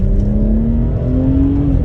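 A Honda S2000 time-attack car in Need for Speed Unbound launches in second gear, a loud steady engine drone rising gradually in pitch as it accelerates, close and continuous with no talk.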